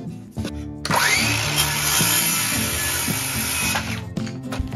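A power driver whirs steadily for about three seconds while driving screws into wood during a room build, starting and stopping abruptly, loud and close with no talk.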